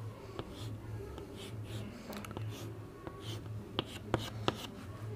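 Marker strokes on a board while an alkene is drawn during a chemistry lecture: faint, scattered scratches and taps over a low steady hum, with a few sharper ticks near the end.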